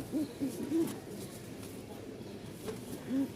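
A fancy pigeon cooing close by in a loft, a handful of soft, low, brief coos spread out over a quiet background.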